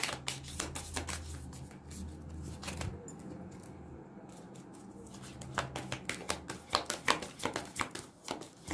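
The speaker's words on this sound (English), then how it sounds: "I know some people don't like all the shuffling" Tarot cards are shuffled repeatedly at close range, with quick papery riffles and taps in bursts and a brief pause midway.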